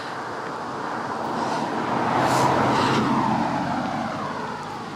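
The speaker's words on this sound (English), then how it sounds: "Here comes a car." A car drives past on a road, its tyre and engine noise swelling to a broad rush at mid-clip and fading away, heard alone.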